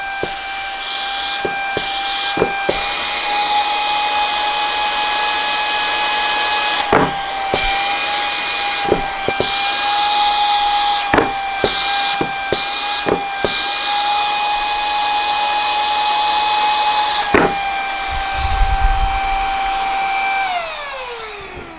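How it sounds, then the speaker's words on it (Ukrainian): Hoco ZP6 handheld cordless car vacuum cleaner with built-in battery running at maximum power, a loud, steady high-pitched whine that holds for about twenty seconds with brief knocks and handling bumps, then winds down at the end. "Вмикаємо пилосос натисканням і утримуванням кнопки. А потім робимо ще одне коротке натискання, щоб вмімкнути максимальний режим потужності."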